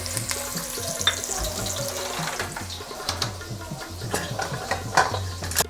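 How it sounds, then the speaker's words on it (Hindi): Chopped onion frying in cooking oil in a pot, a low sizzle under repeated spoon or ladle scrapes and knocks against the metal, moderately close, with a few louder clanks and no talking. "इस कुकिंग ऑयल के साथ मैंने इसमें ये प्याज डाल दिया, एक अदद कटी हुई"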